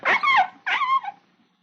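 Old-time radio sound effect of a dog growling: two short snarling bursts with a rough, throaty edge, close and fairly loud, separated by a brief gap and ending in a quick fade.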